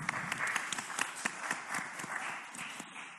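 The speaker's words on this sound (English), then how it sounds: "Can we give Chandra a round of applause, please?" An audience at a summit event applauds Chandra, fairly faint and distant, with individual claps standing out over a few seconds before it fades.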